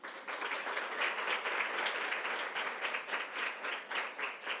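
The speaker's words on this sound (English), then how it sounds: "big round of applause, please" A crowd applauds steadily for several seconds, a dense wash of clapping at moderate distance with no voices on top.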